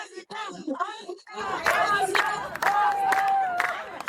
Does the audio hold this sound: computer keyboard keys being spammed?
no